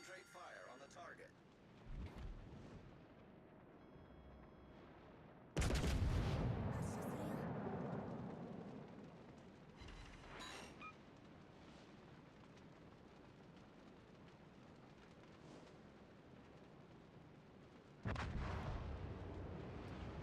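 Heavy naval guns and artillery boom in a warship video game, with big blasts near 6 s and 18 s rolling out over a steady rumbling battle ambience, while voices chatter over the top.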